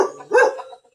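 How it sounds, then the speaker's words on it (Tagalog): A bulldog barks close by in one loud, short bark, then the sound tapers off quickly. "Ingay ng aso, eh."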